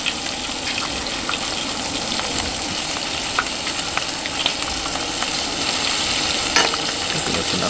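Bacon fries in a pan at an RV campsite, a dense, continuous sizzle with scattered crackles and pops, close and steady throughout with no talk.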